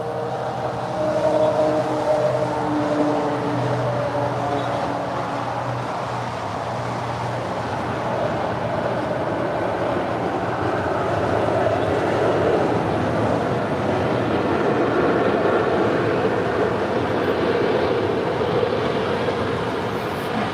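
Embraer E175 regional jet, United Express, landing at LAX: a steady, broad roar of jet engines at moderate distance, swelling slightly and holding for about twenty seconds with no voices.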